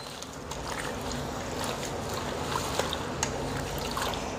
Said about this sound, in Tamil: அதனால் இதை வந்து நல்ல தண்ணி வச்சு இந்த மாதிரி ஒரு வடிகட்டி மூலம் இதை வந்து வடிகட்டிக்கிறோம்.